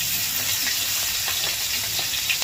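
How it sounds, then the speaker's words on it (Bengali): Chopped green chillies drop into hot oil and sizzle in a steady, bright hiss with faint crackles, heard up close with no talking. "এখানে দিয়ে দিচ্ছি প্রথমে কাঁচা লঙ্কা কুচি"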